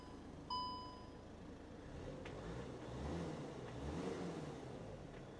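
A Skoda Kodiaq starts from its push-button: a chime rings first, then the engine turns over and settles into a low, muffled idle heard from inside the cabin, with slight rises in rev.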